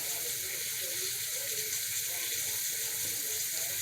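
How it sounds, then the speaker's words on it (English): Steady, hissing sizzle of food frying in hot oil, continuous and close, with no pauses or talking. "As you see, it's frying up."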